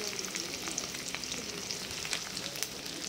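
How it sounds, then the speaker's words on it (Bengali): Spices with turmeric and salt fry in a pan, giving a constant close sizzle with small crackles and light stirring clicks throughout, no talking. "সব দিন নাড়াচাড়া করবো।"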